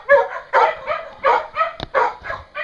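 Several dogs bark in quick, loud bursts close by, with a short sharp yip between them and no talk over the barking.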